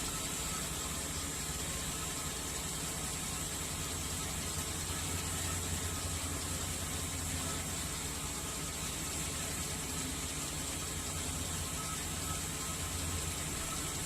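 A Chevy Express van engine idles with a cylinder misfire, heard as a steady, dense low rumble and hiss with subtle uneven pulsing, recorded close with no talking.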